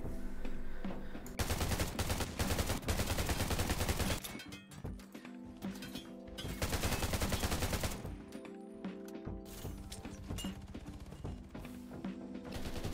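Rapid bursts of automatic gunfire from a drone in the video game Undawn, loud and dense, in two long volleys separated by a short break, with game effects underneath and no talking.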